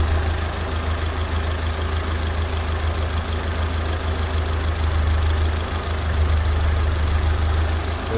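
A 1931 Ford Model A Tudor sedan engine with a downdraft carburetor idling smoothly, a steady low close rumble with an even, continuous pulse and no voices.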